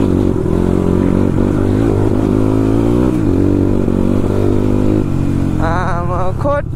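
A motorcycle ridden along a road toward Khotang, its engine droning loudly and steadily throughout, with a brief revving rise near the end.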